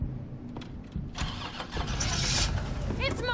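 A car engine cranks and turns over in the Resident Evil 3 video game, a rough mechanical churn that builds into a running rumble while people talk over it.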